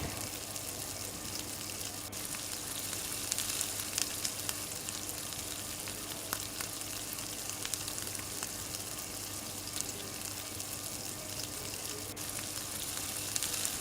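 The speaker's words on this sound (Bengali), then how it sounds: "একটু নুন দিয়ে দিলাম পেঁয়াজের মধ্যে, দিয়ে আরও কিছুক্ষণ ভেজে নিতে হবে।" Chopped onions frying in a pan with salt, a constant close hiss and crackle of oil with faint scattered taps, steady throughout with no talk.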